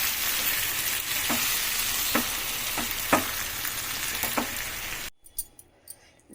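Mango pulihora rice being mixed in a hot pan, with a steady sizzle broken by repeated scraping stirs of the spoon; it cuts off and a few faint clinks follow.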